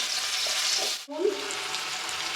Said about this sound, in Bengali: এবার এই তেলের মধ্যে আমি দিয়ে দেবো আলু